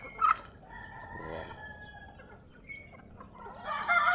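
Farmyard chickens, native free-range birds raised for meat, crowing and clucking in a lively flock, with a rooster's crow near the start and louder clucking and calls rising toward the end.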